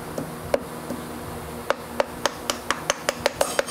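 A metal workpiece is tapped down flat in a milling machine vise, a series of sharp, close knocks that start sparse and then come in a quicker, evenly spaced run.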